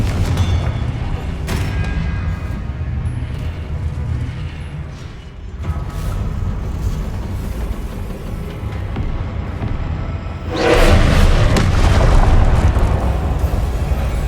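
Confringo blasting-spell explosions in the video game Hogwarts Legacy, heard as rumbling booms under dense combat noise, with a louder, heavier blast near the end.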